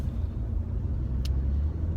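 Steady low road rumble inside a moving car, a continuous engine and tire drone filling the cabin with one brief higher click near the middle; no one speaks.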